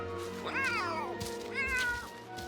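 Two clear, drawn-out meows come from simulated cats in The Sims 3, close and fairly quiet, over a soft game background.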